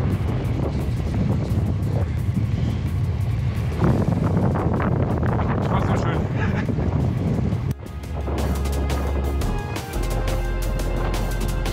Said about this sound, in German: Ist ja orkanartiger Sturm hier.